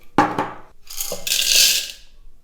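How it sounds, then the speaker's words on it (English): GRAEF CM800 coffee grinder with espresso beans: two sharp mechanical clicks, then a short, bright whirring grind burst lasting under a second that fades out. "I'm going to push the grinder down basically"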